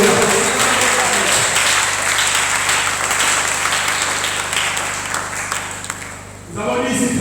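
A church congregation at Sunday worship applauds together, steady loud clapping that fills the room for several seconds, then drops briefly before picking back up near the end.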